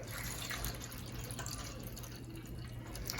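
Water poured into a seed pod germination tray resting on a heat mat, a steady soft trickle and drip running continuously and close by, low and quiet with a faint constant hum underneath.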